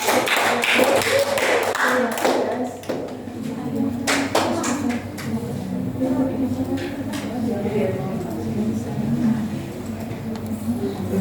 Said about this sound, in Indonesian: Beri aplaus untuk teman kita Ilda